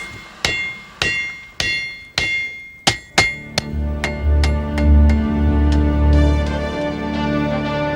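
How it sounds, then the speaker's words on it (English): Hot iron is hammered by a blacksmith into a solid lump before going into the forge, with about eight sharp, ringing metallic blows in a steady rhythm, followed by a low sustained rumble and fading resonance. "Beat it down into a fairly solid state and then bung it in the forge and bring it up to welding heat"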